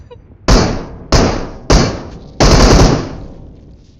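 Gunfire in the BGMI mobile battle royale game at a bot: three loud single shots spaced about half a second apart, then a short rapid burst, close and punchy with fading echoes.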